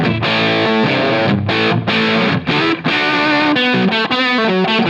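An electric guitar played through Line 6 Helix dual Plexi amp models with reverb, loud and distorted, ringing out sustained chords and riffs that break into short choppy stops.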